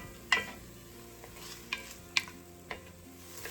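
Onions cooking in olive oil and butter in a pot, a soft low sizzle broken by a few sharp metal clinks of a spoon against the pot.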